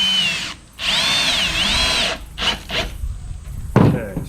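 A power drill drives 2.5 inch construction screws into wood, with a long, loud whining burst followed by shorter, choppier bursts of the motor as the screws seat.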